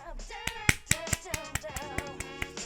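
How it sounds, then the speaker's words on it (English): Applause in the video game Persona Q: a short burst of sharp, rhythmic hand claps, close and crisp, over a light musical background. "A round of applause, please."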